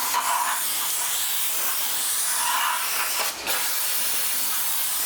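Brake cleaner sprayed onto a rear brake rotor of a 100 series Land Cruiser LX470, a loud close continuous hiss with a brief dip near the end.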